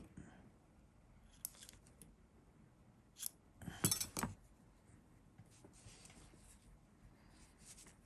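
Scissors trimming cotton wick for a vape coil on a Lost Vape UB Pro RBA, a few quiet close snips in a soft cluster amid faint handling noise.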